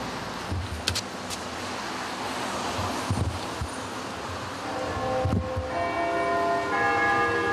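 The great Blagovestnik bell of the Bolshoi Zlatoust church strikes a few times, deep and resonant, with long ringing tails. It sounds from outdoors, some distance off, under wind noise and rustling.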